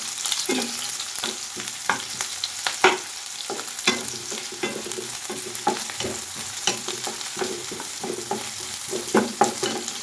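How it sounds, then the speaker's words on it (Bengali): Onions frying in hot mustard oil, a strong crackling sizzle broken by repeated sharp scraping and stirring strokes of a spoon against the pan, close and loud. "এখানে তেলটা ভালো করে গরম হয়ে গেছে, আমি পেঁয়াজ দিয়ে দিলাম"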